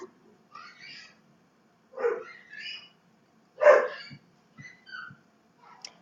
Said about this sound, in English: Their dogs barking.